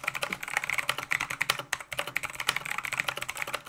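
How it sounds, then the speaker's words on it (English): Rapid, uneven keystrokes on a gaming keyboard bought at Kmart, close and clear, with a brief pause in the middle before the typing resumes, and no voices over it. "Typing."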